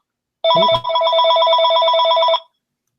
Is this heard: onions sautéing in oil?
no